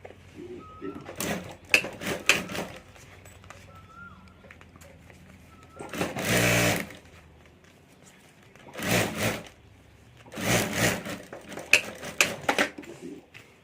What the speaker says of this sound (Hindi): तो यहाँ भी ऊपर मैं एक सिलाई कर देता हूँ